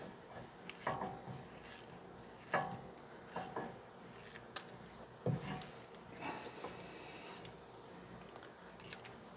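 Rear brake caliper piston on a 2011–2019 Ford Explorer being wound back into its bore with a rotating tool, giving a series of faint mechanical clicks, squeaks and scraping ticks at irregular intervals, close up with no talk.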